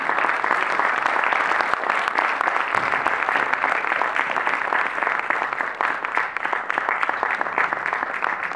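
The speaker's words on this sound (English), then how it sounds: "a huge round of applause, please." Dense, loud applause fills a Christmas celebration in New Delhi, a large crowd clapping steadily without pause throughout.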